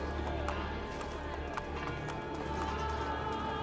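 Clip-clop of a galloping horse in the video game Assassin's Creed Brotherhood, rapid rhythmic hoofbeats under a dense, steady wash of game ambience.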